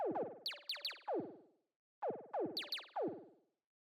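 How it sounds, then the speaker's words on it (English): Synthesized zap sounds shaped by a pitch envelope for deep minimal house, sharp downward-sweeping blips in two short rhythmic bursts of about five hits each, separated by a brief gap. "After that, we have these little zap sounds,"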